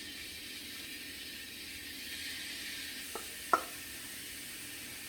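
Onions sizzling in oil in a pan on the stove, a steady faint hiss with a couple of brief clinks from a utensil near the end.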